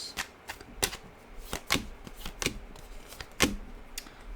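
Tarot cards being shuffled by hand in a quiet room, a run of crisp riffling snaps and soft card slaps in irregular bursts, close and clear with no talking.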